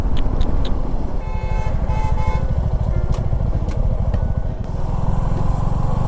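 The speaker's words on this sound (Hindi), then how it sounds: "भाई ये देखो आप, कंजेशन देखो भाई यहाँ पे।" Dense, congested highway traffic between Gorakhpur and Gurgaon, heard from a motorbike, with engines idling and revving close by, and a couple of short horn toots near the start amid steady motor noise.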